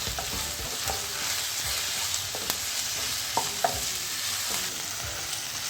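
Ginger garlic paste sizzles and fries steadily in a pan, with occasional soft scrapes and taps of a spoon stirring, close up and without talking.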